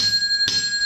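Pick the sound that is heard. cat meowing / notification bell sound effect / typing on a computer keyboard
notification bell sound effect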